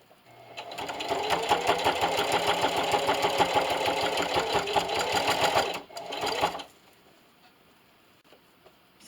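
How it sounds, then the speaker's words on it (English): A sewing machine stitches binding onto a fabric canning mitt in a fast, steady mechanical chatter that runs for several seconds, pauses briefly, restarts for a short burst, then stops. "And just keep sewing."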